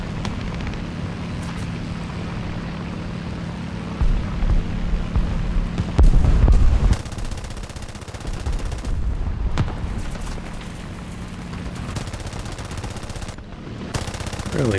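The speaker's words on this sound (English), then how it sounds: "Really missing a lot of shots on this guy." Machine gun fire from a J8A aircraft in the War Thunder game, heard as rapid sustained bursts with a steady engine drone beneath and louder, heavier booms near the middle.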